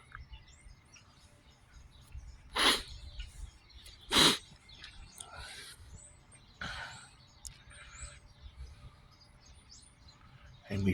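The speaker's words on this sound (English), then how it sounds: "We hear beautiful birds." Birds call outdoors in a natural setting with scattered chirps and tweets, a few sharp bright calls standing out over a faint, steady background of quieter chatter.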